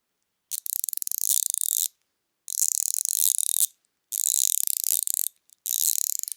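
A Wera 1/4-inch stubby bit ratchet is turned right next to the ear, producing four bursts of rapid, harsh, loud clicking separated by short silences.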